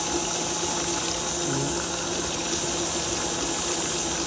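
Buttermilk sloshing and splashing while homemade butter is churned, a steady wet, watery wash that runs unbroken and fairly loud throughout, with no voices.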